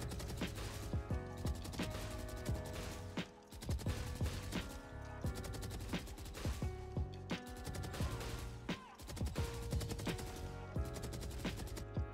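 Rapid automatic gunfire from a weapon in the Valorant practice range, sustained full-auto sprays in several long bursts with brief pauses between them, loud and close with no talk.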